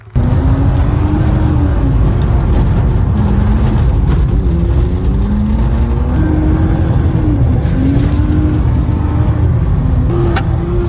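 A BMW fitted with studded tires drives fast on snow, its engine revving loudly up and down through gears with rising and falling pitch, close and continuous, with crunching tire noise and occasional ticks.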